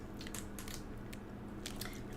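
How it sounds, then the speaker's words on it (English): A Gigster's sausage roll being eaten up close, with soft, irregular crunchy bites and chewing over a steady low hum, no talking. "I am currently eating a sausage roll."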